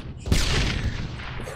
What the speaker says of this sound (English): Oh, they threw a grenade at us!